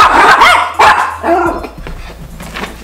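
Several sharp dog barks ring out nearby in quick succession, loud at first and then tapering into smaller yips, with no talking over them.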